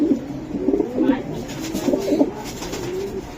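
Racing pigeons coo in soft, repeated low throaty phrases at close range, with faint background noise and a person speaking quietly in the background.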